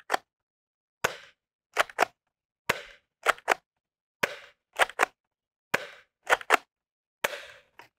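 Dart Zone Pro Mk2.1 foam dart blaster fires at a worn target about 50 feet away, giving about a dozen sharp, close pops in quick pairs and singles with brief gaps for reloading and no talking.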